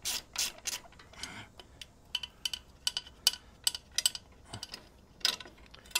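A wrench loosening a bolt on a Harley-Davidson Softail motorcycle during swingarm bearing work: a series of sharp metallic ticks and rasping clicks, close and fairly quiet, with short pauses between bursts.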